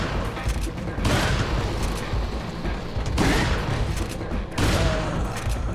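Blacktail pistol in Resident Evil 4 firing rapidly, dense overlapping bursts of gunfire in three loud clusters, mixed with other game combat noise.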